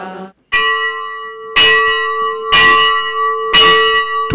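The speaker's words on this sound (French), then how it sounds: "Toute chapelle se doit d'avoir sa cloche." A chapel bell, found by the mason who worked on the chapel of Sainte-Anne du Treh, rings out in four loud, clear strokes about a second apart, each leaving a long ringing tone that hangs between strikes.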